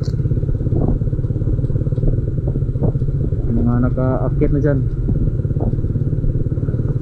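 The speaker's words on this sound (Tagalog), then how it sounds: "dalawang motor yan, puro kargado yan oh." Two loaded motorcycles pass on a road in Palompon, Leyte, their engines a steady close drone with some rattling clatter, while someone talks over them throughout.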